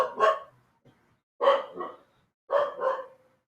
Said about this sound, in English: That dog is crazy.